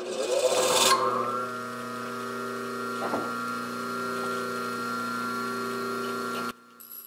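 A woodturner's bench grinder with an 80 grit wheel runs with a brief louder burst at first, then settles into a steady humming whine that slowly winds down, with a faint clunk midway, until it cuts off near the end.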